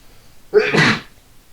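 A single sharp sneeze, close and fairly loud, with a quick intake before the burst, then quiet.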